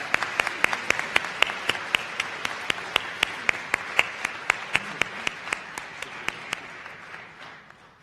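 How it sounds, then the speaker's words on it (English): Steady audience applause at a 2019 university honors convocation, continuous dense clapping with distinct sharper claps throughout, gradually thinning and fading near the end. "Let's have another round of applause."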